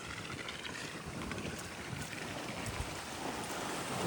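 Floodwater after heavy village rain pours steadily down into a drain, a constant rushing wash with faint wind buffeting, fairly quiet and unbroken.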